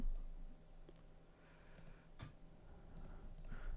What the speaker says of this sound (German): klicken einfach mal hier irgendein Video an,